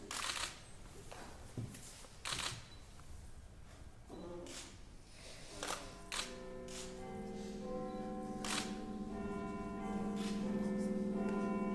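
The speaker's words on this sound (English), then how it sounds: "The bells are ringing" Church wedding bells in Scotland ring out with sustained, overlapping tones that build and swell through the second half, after a few scattered clicks and thumps at the start.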